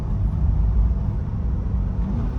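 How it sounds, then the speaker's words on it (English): Engine of a 2023 Corvette 2LT Z51 revved in track mode with both paddles pulled, a steady, fairly subdued low rumble held for a couple of seconds, close by and without voices. "if I pull both paddles in and rev it, it doesn't sound loud. It sounds wimpy."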